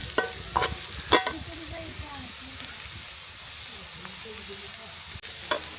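Onions fry in hot oil in a pan with a pangas fish recipe underway as a bay leaf goes in. A steady soft sizzle runs under a few sharp clinks and scrapes of stirring.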